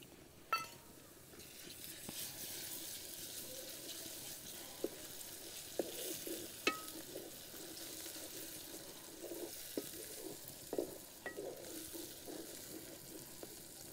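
Soft, steady sizzling of garlic ginger paste frying in a pan, with occasional light clinks and stirring scrapes, fairly quiet and close.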